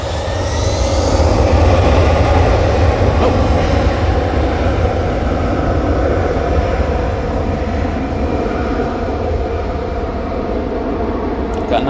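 Jet engine roar from an EasyJet airliner taking off for Gibraltar at Manchester Airport, a loud, steady broadband rumble lasting throughout, with a voice talking faintly underneath.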